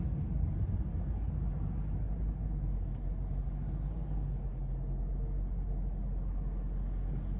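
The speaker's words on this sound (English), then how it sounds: "that's the adaptive cruise slowing the vehicle down. And I have not touched the brake pedal at all" A 2021 Chrysler 300 S with a 5.7 V8 slows under adaptive cruise control, producing a steady low road and engine rumble from inside the cabin, with no voices.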